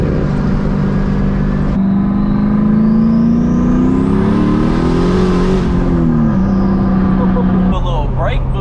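Driftcat car engine droning steadily while cruising, its pitch sliding up and back down as it revs, loud and close throughout.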